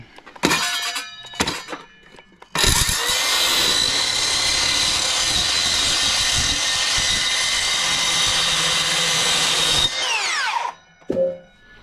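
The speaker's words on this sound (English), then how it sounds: "cut it with a wood blade. Saw it on YouTube. Don't do it. Get a better saw, use a grinder." An angle grinder fitted with a wood blade cutting through wood during a small duck boat build, a couple of brief spin-ups and then a long, loud, continuous whine that winds down before a final short burst.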